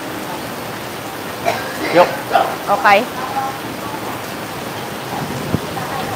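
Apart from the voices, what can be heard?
heavy rain in a thunderstorm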